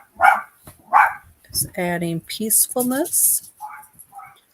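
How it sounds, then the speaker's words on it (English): A small dog with a loud voice barks a few times in the background while several people talk over it in a live group session. "If you hear a dog in the background,"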